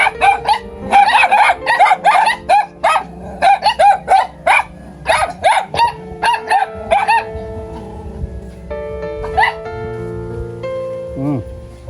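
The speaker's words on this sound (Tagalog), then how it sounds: "Daming aso." Many dogs bark in a rapid, loud, close volley of overlapping yips and woofs outdoors, then thin out to scattered barks, with a rooster-like call near the end.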